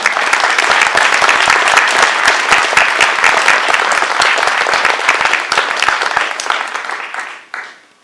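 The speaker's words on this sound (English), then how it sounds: "welcome you with some thunderous applause" A crowd at an annual meeting of Global Cleveland in 2022 claps loudly in a dense, sustained burst for about seven seconds, then the applause cuts off abruptly.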